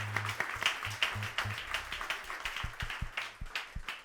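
A church congregation at a Sunday service claps in a loose rhythmic beat, many hands near and moderately loud, with low musical tones underneath and no clear talk.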